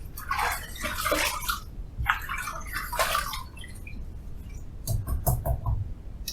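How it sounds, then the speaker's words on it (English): Water splashed onto the face by hand during a wet shave prep, heard as several bursts of wet splashing and dripping close by, separated by brief pauses, with no talking. "we're going to go ahead and splash a little more water on the face"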